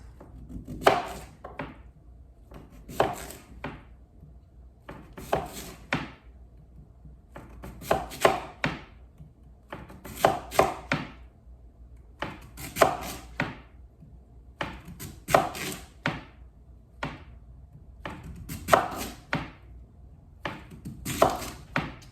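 A knife slicing food into roughly quarter-inch slices on a cutting board, with about a dozen evenly spaced rounds of crisp chops and soft thunks repeating over the stretch, close and clear, with no voices.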